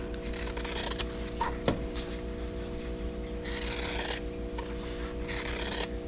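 Scissors cut through quilt fabric for half-square triangle blocks, producing several separate rasping snips and slides that come close up over a steady low background hum.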